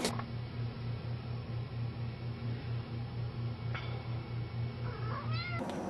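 A cat lets out a couple of soft meows over a steady mechanical hum, with a brief sharper cry near the end.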